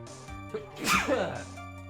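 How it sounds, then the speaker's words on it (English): A single person sneezes once in the middle, a sharp burst close to the microphone, between quieter tonal sounds. "It just comes and I just sneeze up a storm."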